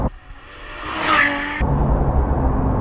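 A Ferrari F12 TDF sweeps past at close range with a rising, whooshing engine note that cuts off abruptly, then leaves a duller rumble and road noise behind it.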